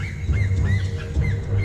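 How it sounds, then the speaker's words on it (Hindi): A hoatzin calls somewhere in dense jungle, a run of harsh, wheezy rising squawks repeated every half second or so, moderately loud over a steady low rumble. "होट्जिन बर्ड की आवाज थी"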